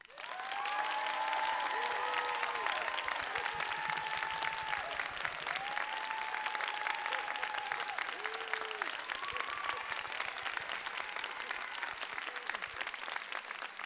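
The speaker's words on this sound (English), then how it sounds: "clap now." An audience at a live debate applauds to vote for the affirmative team, sustained dense clapping from a crowd heard a little distant and fairly soft, holding steady throughout.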